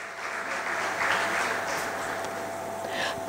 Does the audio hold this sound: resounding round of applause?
yes